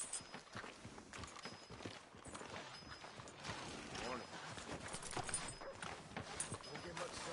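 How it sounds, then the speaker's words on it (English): Horse hooves clip-clop steadily in a video game, a continuous mid-distance patter running under busy ambient game sound and voices talking throughout. "Tether the horse and I'll meet you across the street."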